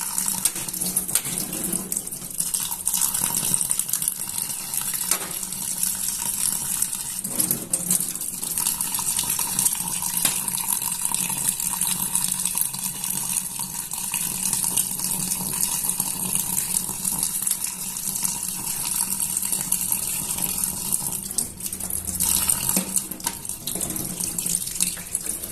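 Tap water runs steadily into a sink while snails are washed, a continuous close splashing flow with brief shifts and clinks as the stream is disturbed, lasting around twenty-five seconds without speech.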